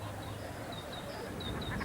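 Ducks at a duck pond give faint, scattered quacks over a soft, steady background hiss.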